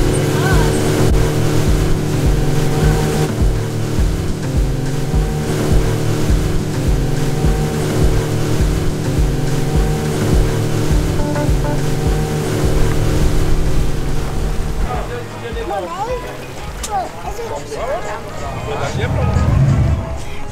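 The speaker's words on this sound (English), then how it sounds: "we're getting a speedboat there" A speedboat motor drones steadily on the water off Mauritius for a long stretch, with people talking over it and splashing water near the end.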